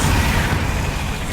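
A Bombarda blast spell goes off in Hogwarts Legacy: a single loud, dense explosive burst that fills the whole moment with roaring noise and no talk.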